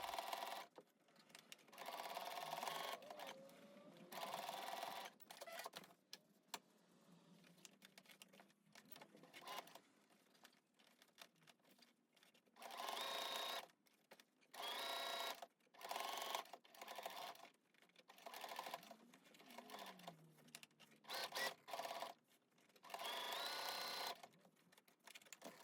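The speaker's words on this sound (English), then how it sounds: "I'm just going to top stitch down along the top of the mask and the bottom of the mask" A sewing machine top stitches along the edges of a washable, water-repellent fabric face mask, running in repeated bursts of steady stitching separated by short pauses.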